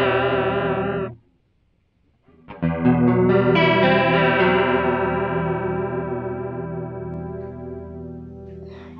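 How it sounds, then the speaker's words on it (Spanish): Chorus-vibrato from a Warlus Audio Julia analog pedal shapes a sustained instrument tone with a clear wavering pitch. A held note cuts out, then after a short silence a new chord rings loud and decays slowly, with no talking. "Y pues conforme más movamos esta perilla, va a ser más vibrato. Más velocidad."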